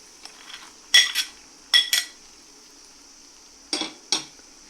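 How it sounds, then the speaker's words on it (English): Cooked pongal with ghee and fried cashews is mixed in a pot. A spoon clinks and scrapes against the metal in a few short, separate bursts, close by, with quiet gaps between. "Mix everything thoroughly."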